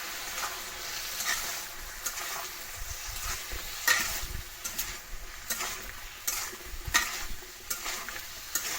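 Puffed rice being stirred in a pan, with rhythmic dry scraping and rustling strokes repeating over a light sizzle, close and fairly loud.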